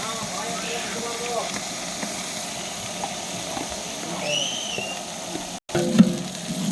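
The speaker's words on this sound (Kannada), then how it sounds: "ಇವಾಗ ಇದರಲ್ಲಿ ಶುಂಠಿ ಪೇಸ್ಟನ್ನು ಆ್ಯಡ್ ಮಾಡಬೇಕು. ಇದು ಶುಂಠಿ ಪೇಸ್ಟ್ ಆ್ಯಡ್ ಮಾಡ್ತಾಯಿದ್ದೀವಿ." Ginger paste hits hot oil in a pot while biryani is cooked outdoors at a farmhouse, giving a steady close sizzle with light stirring scrapes and a sharper clatter near the end.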